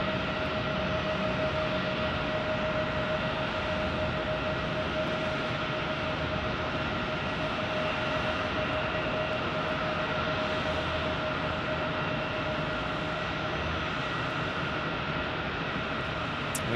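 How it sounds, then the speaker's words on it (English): A Boeing 737-800 landing on runway 25 Left at Phoenix Sky Harbor International Airport, a steady broad jet roar with a sustained whine, heard from a distance and unchanging over the whole stretch, with no talking. "We get a 737-800 landing here"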